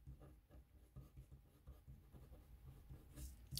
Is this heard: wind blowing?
no